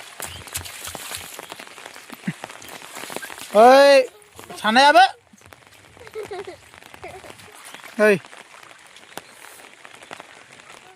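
Heavy rain pours steadily as a constant hiss beneath loud, excited shouts of children playing outdoors in the downpour.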